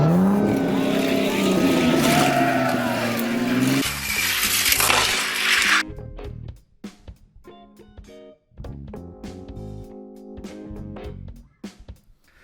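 Diecast toy cars, a Volkswagen Käfer Racer and a Lotus Sport Elise, rolling down a track with a loud continuous whir and rattle, then a change to music-like tonal passages.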